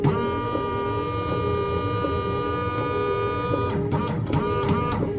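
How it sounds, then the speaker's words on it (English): A windshield washer pump on a Lansing P60 6000 kg electric tug truck runs with a steady, even electric whine and hum that holds for the whole stretch, close and fairly loud. "Does the washer pump work? Oh, it does."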